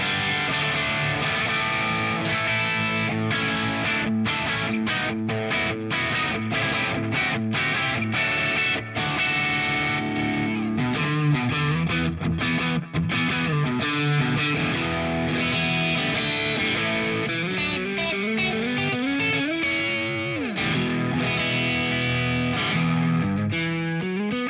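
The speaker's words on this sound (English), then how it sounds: "that's the 3 humbucking positions on my guitar" Heavily distorted electric guitar on a signature model, switched through its humbucking pickup positions, plays sustained chords and riffs loud and continuous, with no talking.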